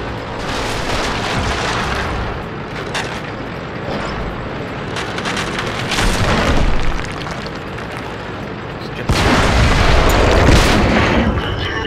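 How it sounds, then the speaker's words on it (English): Tank cannon shots and explosions from a World of Tanks clan wars battle: dense, continuous booming rumble with repeated heavy blasts, loudest bursts near the middle and end, alone without talk. "second shot destroyed my gun ammo rack"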